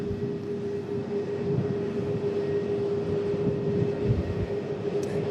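A Saudi airliner taxiing at an airport gives a steady, broad engine rumble with a constant tonal hum, heard from a distance without a break.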